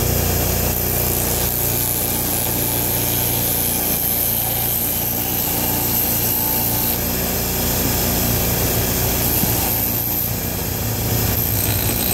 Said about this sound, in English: Standard bench grinder.